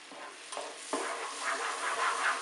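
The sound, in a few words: stirring rava and ghee in a pan for fruit kesari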